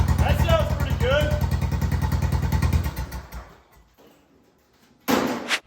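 An ATV engine with a custom glasspack muffler idles in a fast, even, throaty burble for about three seconds, then cuts out. A voice is heard over it and a sharp knock follows near the end.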